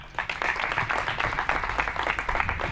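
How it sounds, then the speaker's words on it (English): An audience at a polyglot club meetup claps in a dense, continuous burst of applause lasting a few seconds, close and fairly loud. "When you bring the thing to your reality, it becomes touchable, tangible, and you can do it. Clap."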